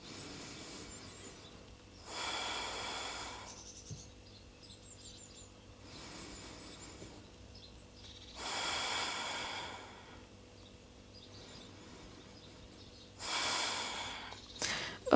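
Deep breaths during a morning vinyasa yoga flow, with three long, airy inhale-exhale swells spaced several seconds apart and quiet room tone between them.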